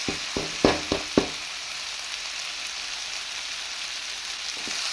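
Garlic sautéing in a hot pan for a spicy banana fry, a steady broadband sizzle running throughout with a few sharp utensil scrapes and knocks near the start as it is stirred.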